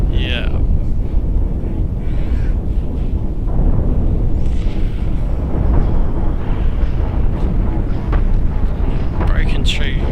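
Missile impacts and explosions in the space game Cosmoteer, a loud sustained rumbling roar with swelling blasts and occasional sharp whooshes, voice chatter faintly beneath.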